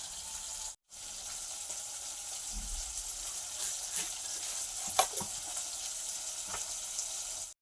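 Fish fry in a pan with a steady, soft sizzle throughout, broken by a brief dropout and a few light clinks and stirs.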